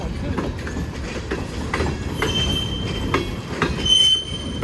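Norfolk Southern freight train NS 4664 rolls past eastbound toward Oliver Yard with CSX steel coil cars, wheels clacking rhythmically and squealing, a loud continuous rumble up close.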